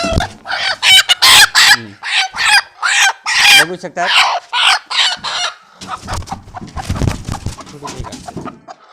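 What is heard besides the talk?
chickens clucking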